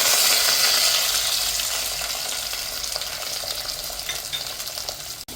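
Steady, loud sizzling of onion and curry leaves frying in hot oil, a dense crackling hiss with occasional stirring, close by.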